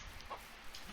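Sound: chickens clucking in a video game

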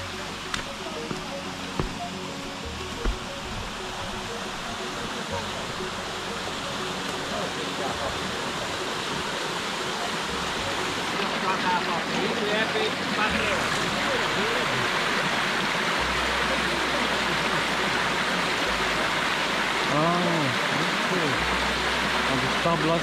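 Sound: water rushing into a water mill turbine

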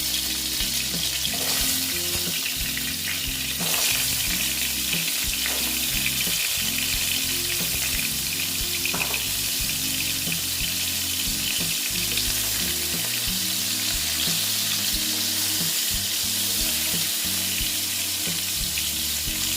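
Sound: pointed gourd (potol) pieces frying in hot oil

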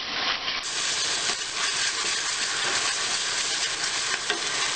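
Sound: onions frying with ginger garlic paste being stirred

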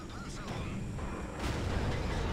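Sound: tank cannon firing in World of Tanks video game

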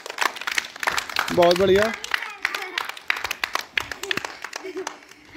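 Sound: children clapping for the winners

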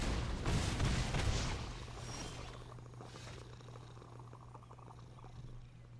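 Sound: cat named Hawkeye purring

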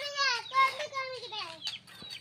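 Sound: chickens clucking, country chickens

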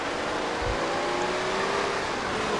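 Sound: car engine driving in video game GTA San Andreas

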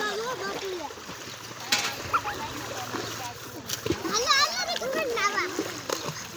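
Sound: people splashing water

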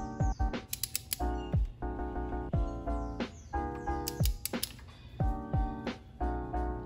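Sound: torque wrench tightening a spark plug on a VW Passat 1.8 TSI

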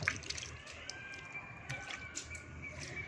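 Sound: water leaking and dripping drops

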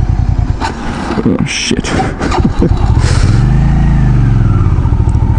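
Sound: Hyosung GV650 Aquila motorcycle engine revving

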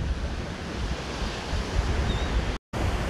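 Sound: ocean waves breaking on beach at Cancun

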